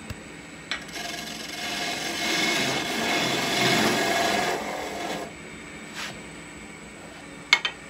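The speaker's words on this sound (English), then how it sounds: "I part until it just slips over the wood" A parting tool cuts into a wooden cane spindle turning on a lathe, making a steady rubbing, rasping hiss that swells for about four seconds and then stops, with a few faint knocks afterward.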